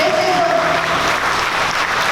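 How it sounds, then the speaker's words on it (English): Clapping for Auntie Karen at a celebration of life, a steady wash of applause from a crowd that carries through the whole moment, with a brief tonal whistle or cheer near the start. "Let's get everybody clapping for Auntie Karen"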